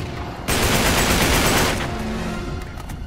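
Enemy gunfire in the video game Uncharted 3 aboard a ship, a loud dense burst of rapid automatic shots that suddenly starts and rattles on steadily before trailing off, without any talking.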